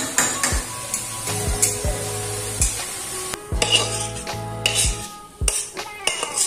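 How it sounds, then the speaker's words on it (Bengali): Potatoes fry in a pan while a utensil stirs and scrapes against the metal in repeated sharp strokes, with a soft sizzle running underneath. "এবারে হালকা করে ভাজতে থাকবো আর একটু ঢাকা দিয়ে রাখবো"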